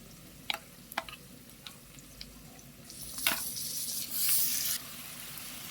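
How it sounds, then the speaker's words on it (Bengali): Onion and garlic paste frying in a pan, a faint sizzle with a few sharp ticks and clinks early on, then swelling into a louder, brighter hiss toward the end, with no talking. "পেঁয়াজ রসুন ভাজা হয়ে গিয়েছে, এখন দিয়ে দেব 2 চা চামচ পেঁয়াজ রসুন পেস্ট"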